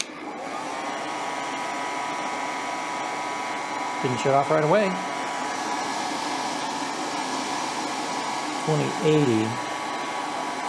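An electric dryer runs as an overload on a 2000W inverter, giving a constant, loud, even whir with a steady hum, while a voice speaks briefly twice over it.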